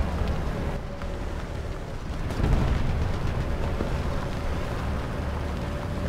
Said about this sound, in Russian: Выстрелы зенитки звучат так, как будто это вертолет какой-то.